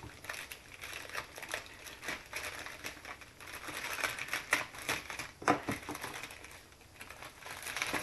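Close, continuous crinkling and crackling of a plastic bag of model kit parts being handled, irregular rustles and crunches with no talking.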